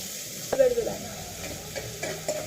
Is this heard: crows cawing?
no